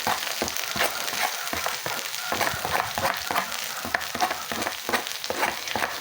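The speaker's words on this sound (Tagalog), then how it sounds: "Gisayin lang natin yan ng 1 minuto." Cabbage, carrots, celery and green beans sizzle in a hot pan after garlic and onion, with steady frying crackle and scraping stir strokes throughout, no voices.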